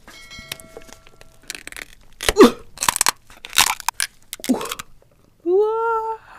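King crab legs are torn and crunched, with several sharp cracking and tearing bursts of shell close to the mic, separated by short pauses and followed by a brief voiced exclamation.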